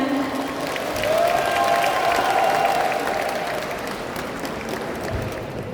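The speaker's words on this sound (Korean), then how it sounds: "격려의 박수 부탁드립니다" Steady applause from a large crowd at a Democratic Party convention candidate speech event in Iksan, South Korea, fills the room, sustained clapping with a faint cheer rising briefly near the start.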